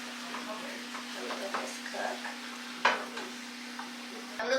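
Seasoned taco filling cooking in a pan, with a soft sizzle and scattered stirring scrapes over a steady low hum, quiet and close, with one sharper clink partway through.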